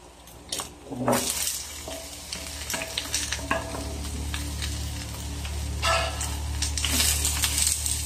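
Vegetables, cabbage and tender pressure-cooked carabao meat stirred in a pan for sautéed ginisang gulay, with repeated scraping and clattering strokes over a steady low sizzle, close and fairly loud throughout.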